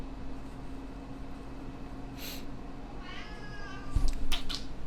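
A cat meows a few times near the end, with short, drawn-out calls close to the microphone. A low, steady electrical hum runs underneath.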